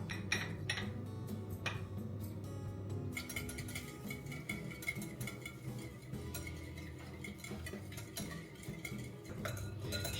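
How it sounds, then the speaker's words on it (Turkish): Brisk whisking of a sugar mixture in a bowl for brownies, a steady run of quick metallic clinks and scrapes against the bowl, close and continuous under a low background hum. "şekerin tamamıyla çözünmesini istiyorum burada bu etapta. O yüzden iyice çırpıyorum."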